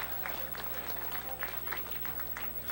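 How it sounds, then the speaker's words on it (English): Brief audience applause at a surfing walk of fame induction ceremony, moderate crowd clapping with scattered distinct claps over a low steady hum, somewhat quiet. "Another round of applause for the founders of truly a great American institution in surfing"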